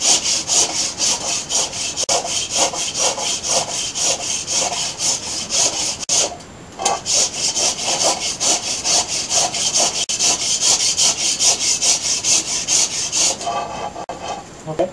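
A hand tool shaves along the grain of a wooden bokken in quick, rhythmic rasping strokes, close and continuous with a brief pause midway.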